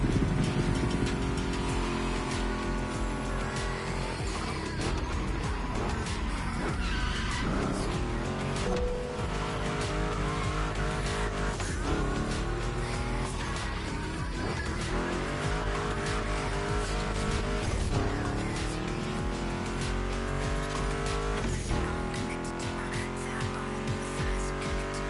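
Ford Mustang GT muscle car in The Crew Motorfest, engine revving and shifting with tires squealing and skidding through turns, loud and continuous over a long stretch, with voices and music-like layers in the mix.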